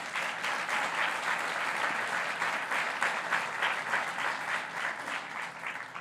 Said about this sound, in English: I'd just like to have a round of applause for the members of the General Assembly